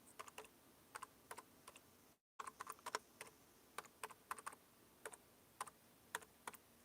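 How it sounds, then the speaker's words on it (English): Fingers type on a computer keyboard in short, irregular bursts of light clicks that pause briefly between words. The clicks are close and fairly quiet, with one brief full silence partway through. "Let me type something in."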